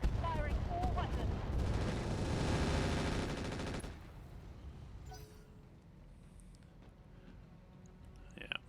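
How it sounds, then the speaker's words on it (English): Mech unloading all its weapons at once in RogueTech, a dense, loud roar of overlapping gunfire and blasts for about four seconds, then fading into a quieter rumbling tail with scattered smaller sounds. "Firing all weapons."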